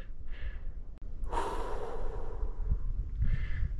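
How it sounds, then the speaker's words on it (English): Heavy breathing and gasping from cyclists after climbing the Alto de l'Angliru, close and fairly quiet, with a few loud exhales over steady background noise. "apart from our heavy breathing today"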